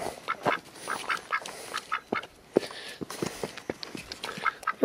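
Pet duck Mr Quackers quacks in repeated loud, close calls by the Severn River at sunrise, the bursts coming in an uneven string with short gaps between them.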